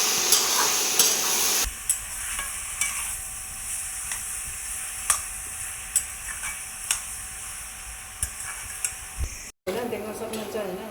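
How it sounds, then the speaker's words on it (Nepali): Pork pieces sizzle and fry in a pan while being stirred, giving steady frying hiss with repeated scraping clicks of the spatula, close and fairly loud, without talk over it. "मासु चाहिँ मजाले भुट्नुपर्ने हुन्छ।"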